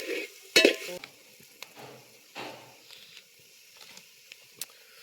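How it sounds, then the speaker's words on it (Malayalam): Garam masala and chicken powder being stirred and lightly fried in a pan, with a soft sizzle under scattered scraping spoon strokes and a few sharp clinks against the metal. "എല്ലാം കൂടി ഒന്ന് മൂപ്പിച്ചെടുക്കാം"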